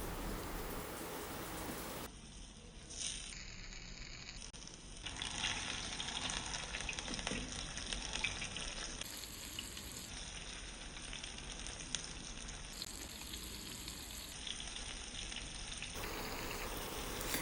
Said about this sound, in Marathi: तेल गरम झाल्यानंतर रवा लावलेले बोंबील आहेत ते या तेलामध्ये फ्राय करून घेऊया